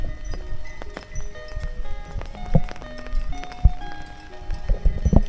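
Goats walk through a rural village in the evening, hooves clopping irregularly on the ground amid scattered knocks and a steady outdoor background, fairly close and moderately loud.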